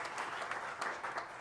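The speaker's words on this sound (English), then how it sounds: "Let us give a big clap to Professor Ada for his" Brief burst of dense applause from a symposium audience, steady clapping at moderate distance throughout.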